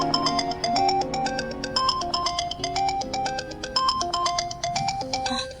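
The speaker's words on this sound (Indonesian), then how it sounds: "Telepon dari kantor" A mobile phone ringtone plays an incoming call from the office as a bright, repeating electronic melody of quick tonal notes, loud and steady, with no talking over it.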